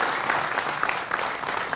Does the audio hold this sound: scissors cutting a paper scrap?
no